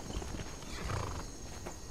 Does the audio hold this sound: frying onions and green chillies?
no